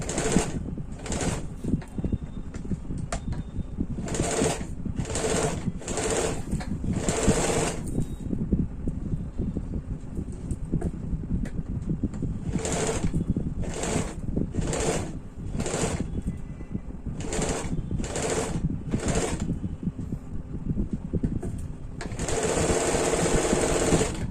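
A sewing machine stitches a strip on a deep-neck kurti in repeated short bursts, about a dozen runs separated by brief pauses, close and steady, with a longer run at the end.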